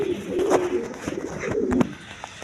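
High-flying Giribaz pigeons coo in a close, steady run of low, throaty calls, swelling twice to fuller bursts against a busy loft background.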